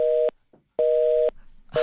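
A telephone busy signal sounds after a radio-show phone call drops: loud, steady two-tone beeps in a regular on-off pattern, three pulses with short gaps, no voices.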